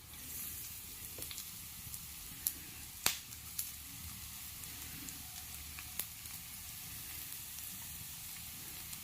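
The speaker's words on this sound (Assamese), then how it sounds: "এয়া মোৰ পিঁয়াজখিনি ভজা হৈ গৈছে। এতিয়া মই কাটি থোৱা গাজৰখিনি দি দিম।" Chopped onions and carrots frying in a pan for potato chops, giving a soft steady sizzle with scattered sharp crackles and pops, faint and without voices.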